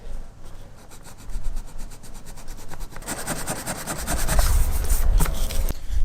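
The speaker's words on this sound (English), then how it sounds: "Now I'm just going to give it a little sanding around the edge." Steady abrasive rubbing of sandpaper around the edge of a wooden screw plug in a doorway threshold, growing louder and denser after a few seconds, with a continuous scratchy rasp and no talking.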